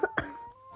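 Two quick, close coughs in rapid succession, followed by a faint lingering hum.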